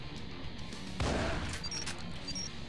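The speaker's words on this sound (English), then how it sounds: "Just need to get more kills with this shotgun." A shotgun blast fired at zombies in a video game, a single loud sharp boom with a short crash of decay, over a steady low game background.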